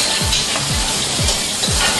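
Loud, steady sizzle of tomato and squash (kalabasa) frying in a pan, a dense hiss broken by four regular low scraping strokes of stirring, close and with no talk.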